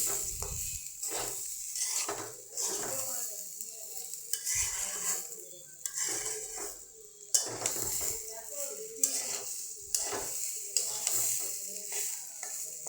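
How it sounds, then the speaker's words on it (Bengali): Rice for polao frying in a pan, repeated scraping stirs of a spoon against the metal over a continuous sizzle, close and steady with regular clinks. "দেখতে পাচ্ছেন পোলাওটা কত সুন্দর ভাজা হইতে আছে।"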